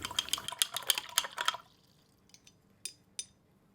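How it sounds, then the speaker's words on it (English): A paintbrush is shaken hard in a jar of paint water, giving about one and a half seconds of dense, rapid splashing and rattling, then quiet with a few faint drips and clinks. "I can also shake or shush my brush quite vigorously without the paint water splatters outside the jar"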